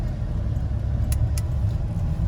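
A 1986 Chevrolet C10 Silverado pickup truck on the road makes a steady, low engine and road rumble heard from close by, with a couple of faint light clicks.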